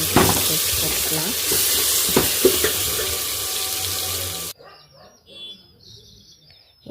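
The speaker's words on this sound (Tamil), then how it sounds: "இஞ்சி பூண்டு பேஸ்ட் நல்லா போட்டு நல்லா கிளறி விட்டுங்க, ஸ்மெல் போகிற வரையும்" Ginger garlic paste sizzles and is stirred in a hot pan for tomato rice: steady, loud frying hiss with scraping stir strokes for about four and a half seconds, then it cuts abruptly to quieter, uneven sounds.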